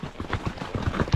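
A horse walks along carrying two riders on a volcano trail, its hooves clip-clopping in an irregular rhythm close by, with faint background voices.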